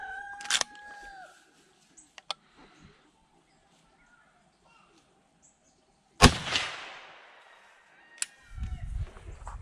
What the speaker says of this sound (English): How about we go ahead and shoot it at 100 yards to see if we can ring that metal target.